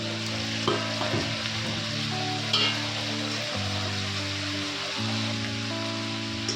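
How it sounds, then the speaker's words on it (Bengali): Meat being fried and stirred with ground spices in mustard oil: a continuous crackling sizzle with occasional clinks and scrapes of the spatula, close and steady. "এইবার গুঁড়ো মশলাগুলো দিয়ে আস্তে আস্তে মাংসটাকে আবার একটু নাড়াচাড়া করে কষাবো"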